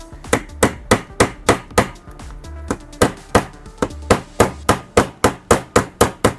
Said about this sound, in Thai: โดยใช้ค้อนนะครับ ค้อนยาง ตีพับนะครับ